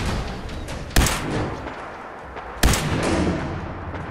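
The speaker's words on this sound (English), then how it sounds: "Oh, a laser turret or something." Two sharp zapping shots from a laser turret in Fallout 4, spaced about a second and a half apart, loud against a steady noisy game backdrop.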